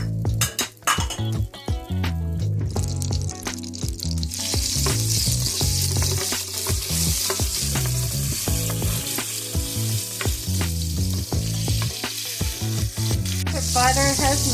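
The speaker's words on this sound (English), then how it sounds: "Now you want to add in your butter, and we're going to let that melt." Butter melts and sizzles in hot olive oil in a pan with a steady frying hiss and occasional clinks of utensils against cookware, heard close with no talk.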